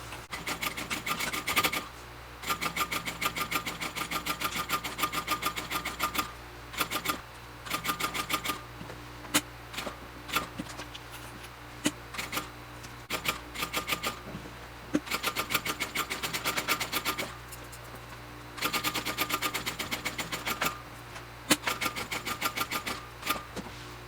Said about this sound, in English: So I'm going to come in and do a second row of stitching right next to the first one